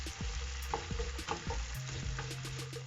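Pieces of a large potato sauté in a pan for an Afghani omelette, a soft steady sizzle close by with several sharp utensil taps and scrapes while the pieces are turned.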